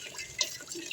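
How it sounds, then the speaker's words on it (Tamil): Soft, continuous bubbling and fizzing of sugar syrup boiling in a pan on a gas stove, faint and close, with no voices. "நல்லாவே கொதிக்குது."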